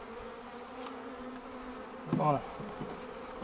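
Honey bees buzzing around an open hive being worked, a steady, close insect drone with someone speaking briefly over it near the end.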